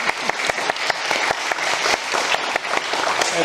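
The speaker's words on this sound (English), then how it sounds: "Give them a big round of applause." Guests at the Stone Edge Farm retrospective wine tasting break into a full round of applause, dense, continuous clapping from a crowd indoors, filling the whole stretch with little talk.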